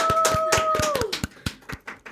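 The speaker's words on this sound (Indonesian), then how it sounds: "Tepuk tangan untuk Riri." A small podcast audience claps in sparse, uneven bursts at the end of an episode, while a sustained electronic tone glides downward in the background.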